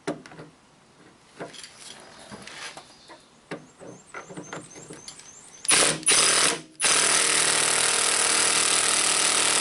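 An impact gun works a nut on the stabilizer bar link of a 2002 Chevy 2500HD truck. Scattered metallic clanks and handling knocks come first, then a loud, continuous hammering rattle runs to the end.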